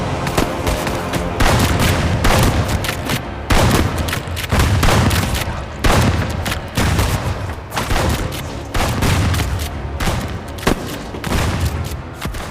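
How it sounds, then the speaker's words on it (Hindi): Gunfire volley in an audio drama as soldiers open fire on a village: loud, dense bursts of shooting and booming reports pound continuously for over twelve seconds, with short breaks between surges and no voices. "मेजर ने इशारा किया और गोलियां बरस पड़ी"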